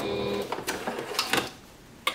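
A sewing machine stitches a tag onto children's clothing in short rapid mechanical bursts, quiet and close, with brief pauses between runs.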